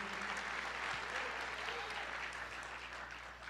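A worship congregation at a Portuguese-language charismatic church service applauds in a continuous dense wash of clapping, fairly quiet and distant, steady throughout with a faint low hum underneath.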